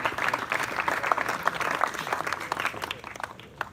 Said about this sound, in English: I think it deserves a round of applause for that.